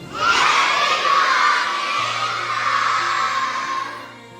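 A school audience at an investiture ceremony erupts in loud cheering and shouting, children's voices rising together into a sustained roar that holds for several seconds before tapering off near the end.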